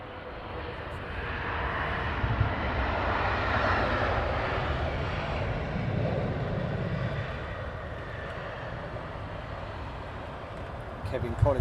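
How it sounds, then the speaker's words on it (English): A Qatar Airways Airbus A380 landing at London Heathrow gives a steady distant jet roar that swells and slowly fades, with a voice heard faintly at times. "Qatar coming in now"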